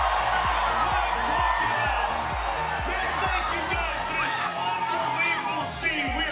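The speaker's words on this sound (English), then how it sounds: "getting the crowd pumped up." A football gameday crowd gets fired up, a dense roar of chatter, shouts and whoops over rhythmic thumping beats, with a nearby voice speaking over the noise.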